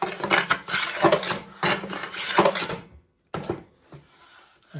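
Hand plane shaving wood down to a marked line during a guitar build, adding the frets: several rhythmic scraping strokes, close and fairly loud, then a brief silence and a softer stroke.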